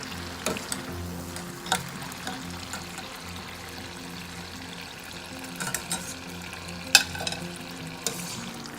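Urad dal murukku deep frying in hot oil bubbles and crackles continuously, with occasional sharper pops and light clatter from stirring, close and moderately loud, no talking.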